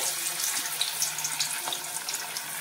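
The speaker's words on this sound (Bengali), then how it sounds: "হয়ে গেছে তেল, দিয়ে দিচ্ছি এক এক করে ডুবো তেলে।" Chana dal fritters, with a little baking soda in the batter, frying in deep oil make a continuous bubbling sizzle, close and even throughout, with no voices.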